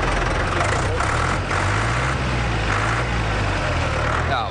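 A vehicle is started with a key and runs at a loud, steady low-pitched idle close by, a continuous rumble with no clear pauses throughout.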